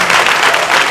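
Audience applause on a French spelling quiz show, a brief, loud, dense burst of clapping from many people.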